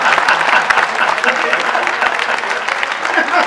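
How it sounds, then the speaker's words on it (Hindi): Enthusiastic audience applause at a Hindi comic poetry gathering, a loud continuous crackle of many hands with some crowd murmur mixed in, holding steady for several seconds. "भाई तालियां कम बजाइए आप लोगों ने"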